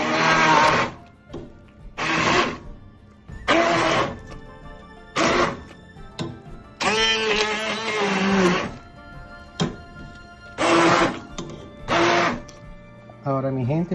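Hand blender puréeing heart of palm in a kitchen, whirring in repeated short pulses of a few seconds each with brief pauses, close and loud, with a person talking between bursts.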